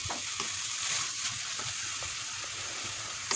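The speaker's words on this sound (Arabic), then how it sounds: "وكنخلط الخليط مزيان" A filling mixture for stuffed msemen cooks and dries in a pan, a soft continuous sizzle with light stirring scrapes and a few small clicks, close and fairly quiet, with no voices.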